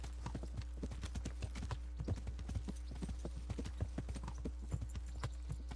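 A ridden horse's hooves clip-clop in a steady walking rhythm in the video game Kingdom Come: Deliverance, with evenly spaced close knocks over a low background hum.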